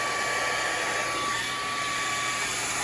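Hair dryer blowing steadily at close range as hair is blow-dried over a brush during a cosmetology state board practice, a continuous even whoosh with no talk.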